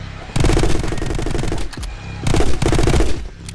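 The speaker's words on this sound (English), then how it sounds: "Oh, they got shotguns now too." Shotgun fire in the action video game My Friend Pedro comes as two loud, dense bursts of rapid booming shots, separated by a short pause, with no voices.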